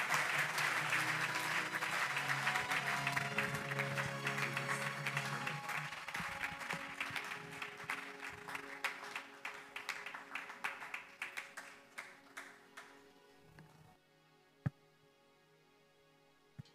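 A church congregation applauds and claps steadily for a pastor, dense and sustained at first, then thinning to scattered claps before a near-quiet end.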